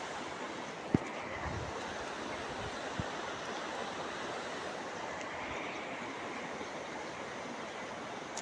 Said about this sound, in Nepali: आज हामी यहाँ खोलामा आएको छु।